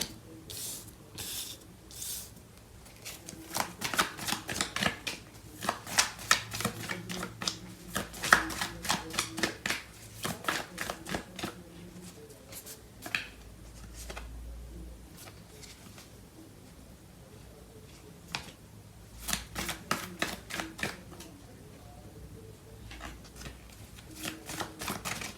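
Tarot cards being shuffled close up in repeated riffling bursts of crisp papery flutter, with a few brief pauses, and no voices over them.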